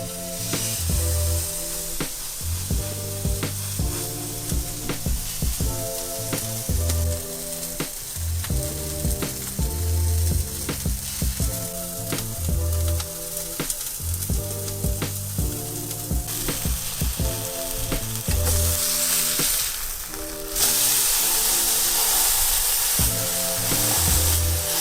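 A convenience-store steak sizzles steadily in a pan greased only by the oil on the meat, a continuous frying hiss running under loud rhythmic background music.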